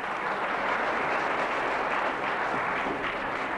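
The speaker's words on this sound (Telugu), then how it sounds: "కొట్టండి, గట్టి కొట్టండి. ఈ చప్పట్లే కదరా" Dense, continuous clapping from a crowded audience at a film awards ceremony, loud and sustained without a break.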